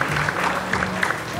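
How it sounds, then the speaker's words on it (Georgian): An audience at a grappling event in Tbilisi applauds the commentators, a steady patter of clapping from a modest crowd, with a voice speaking over it. "და ასევე მინდა რომ აპლოდისმენტებით შეხვდეთ ჩვენს კომენტატორებს თემო მამაცაშვილი და გიორგი ბუჩუკური."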